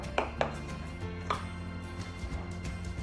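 A knife cutting on a kitchen board while loaded mashed potato pie is made: two quick chops close together, then a third, each a crisp tap over a quiet background.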